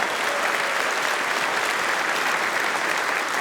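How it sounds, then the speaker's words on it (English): An audience at a convention closing ceremony applauds continuously for a co-host, a dense, even wash of clapping that stays steady and fairly loud throughout, with no talking over it. "Everybody, round of applause"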